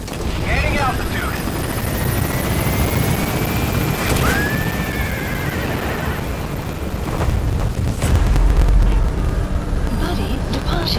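Helicopter in the video game Metal Gear Solid V climbing as it gains altitude, its loud rotor thrum steady and close, with a game voice speaking over it and a few brief effects breaking through.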